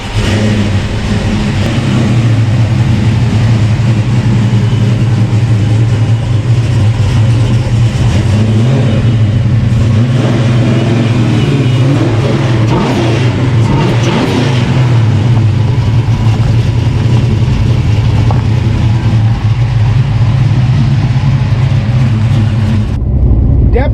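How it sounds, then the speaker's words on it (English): A Ford Windsor V8 car with a cam chop and Flowmaster exhaust muffler revs loudly and close, its raspy burble rising and falling through repeated throttle blips over a steady lumpy idle. "Definitely has that iconic Flowmaster sound. Raspy. Higher RPM-ish."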